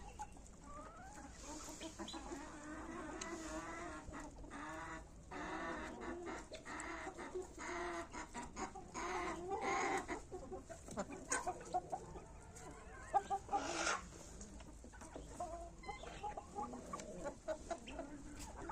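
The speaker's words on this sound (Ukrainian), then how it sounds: "Так, курочка Віандот, красунька." Wyandotte hens cluck and murmur nearby in a backyard flock, a run of soft repeated clucks and low calls with a few louder squawks, no talking over them.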